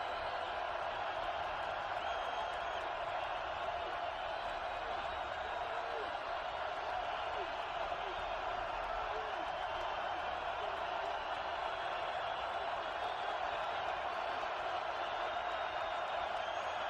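A steady, loud stadium crowd roar fills a college football playoff game between Yale and Montana State around the snap, unbroken throughout, with commentary voices running over the noise.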